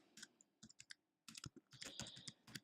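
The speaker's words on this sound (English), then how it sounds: "And I'll type in" Close computer keyboard typing in quick bursts of keystrokes, with a short pause before a denser run of clicks; no talking.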